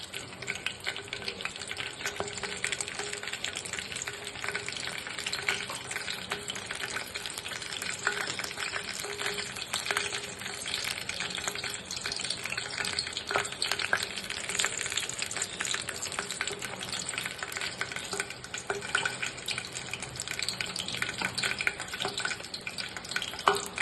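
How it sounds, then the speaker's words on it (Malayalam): Mustard seeds sizzle and crackle in hot coconut oil, a steady dense frying hiss with scattered pops, heard up close and quiet for the whole stretch. "വെളിച്ചെണ്ണ ചൂടായി വെളിച്ചെണ്ണയിലേക്ക് നമുക്ക് കടുകിട്ട് കൊടുക്കാം"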